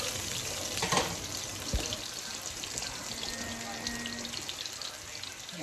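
Onions sauté in a pan for ginataang crabs, a soft steady sizzle and crackle running throughout with an occasional clink, faint and close.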